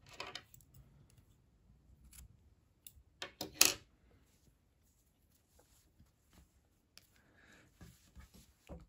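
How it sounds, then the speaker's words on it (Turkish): Scissors snip crochet yarn on a baby romper project with a couple of quiet, close cuts amid faint handling rustles, the rest of the stretch nearly silent. "İpliği burada kesiyorum."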